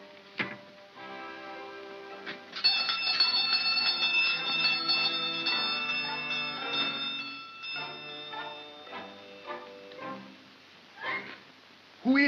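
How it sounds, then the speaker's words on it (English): A doorbell rings out a long, resonant chime sequence with bright sustained tones that gradually fade, followed by a few softer knocks and clinks. "Ring the bell."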